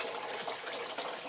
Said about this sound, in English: Pond pump running down here.